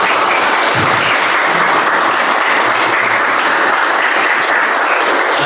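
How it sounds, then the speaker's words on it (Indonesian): A classroom gives a group presentation a round of applause. The clapping is dense and continuous and holds at a steady level throughout. "Kasih tepuk tangan."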